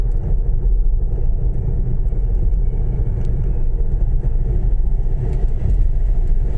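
A low-riding Volkswagen T4 van rolls past on a rural road, a steady loud engine and tyre rumble holding close throughout with no voices.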